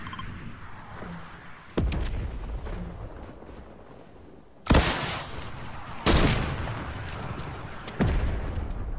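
Gunfire in the video game Fortnite: bursts of loud broadband shots and blasts arrive in several separate clusters, with quieter rattling fire between them and no talking.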